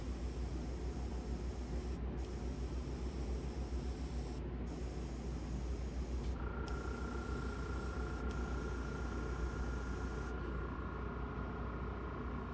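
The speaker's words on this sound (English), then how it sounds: "you want to spray over those" An airbrush spraying paint hisses steadily nearby, a continuous soft spray broken by a few brief pauses, with a faint tone joining partway through.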